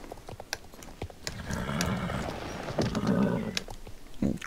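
Horse hooves clip-clop alongside a whinny in the Star Stable Online video game, a steady galloping patter with a neigh rising in the middle, fairly loud and without talk.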